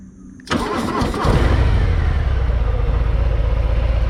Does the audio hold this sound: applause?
no